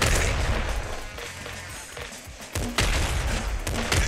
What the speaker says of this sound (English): that's a great way to demonstrate why you don't use the grenade launcher when an enemy